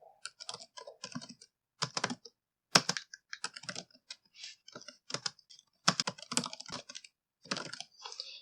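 Clicks from a computer keyboard being typed on in short irregular bursts separated by brief pauses, close and fairly clear, with no talking over them.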